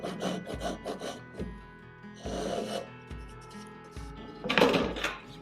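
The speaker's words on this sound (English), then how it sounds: "That's a Dozuki." A Japanese Dozuki backsaw cuts through wood in a series of rhythmic rasping strokes, close and fairly quiet, with a harder, brighter stroke near the end and no talking.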